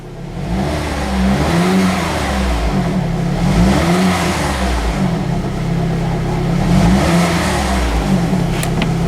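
A Saturn car engine runs after warming up from a cold start, holding a steady, rumbling idle with rhythmic low pulsing and slight rises in revs, recorded up close with no talking.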